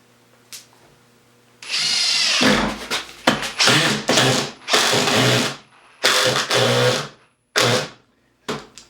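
Ryobi brushless driver driving a screw, loud and close, in repeated whirring bursts of varying length with short pauses between, the motor rising and cutting off as the bit ratchets and chews at the screw head.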